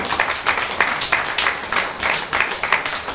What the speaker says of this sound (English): Please give her a very warm round of applause.